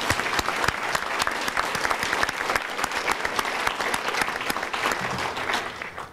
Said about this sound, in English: I think he needs a round of applause right now.